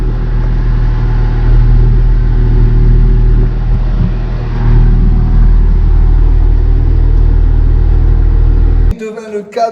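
A tractor pulling a Berthoud 1000-litre sprayer drives through a vineyard, its engine a loud steady low rumble at cruising speed that cuts off abruptly near the end.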